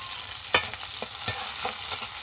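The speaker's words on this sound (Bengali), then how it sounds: "ভালো করে এটা ভাজবো" Chopped onion and tomato fry in mustard oil in a wok, giving a steady soft sizzle broken by a few sharp scraping stirs of a spatula against the pan.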